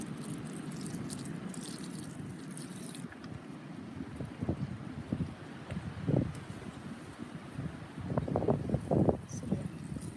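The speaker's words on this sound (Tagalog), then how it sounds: "lakas ng hangin dito sa labas." Strong wind roars steadily outdoors, buffeting the microphone with low rumbling gusts, while a few faint knocks and bumps come and go.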